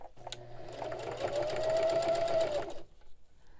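A sewing machine stitches binding onto a quilted oven mitt in one steady, close whirring run of rapid needle strokes lasting a few seconds before it stops.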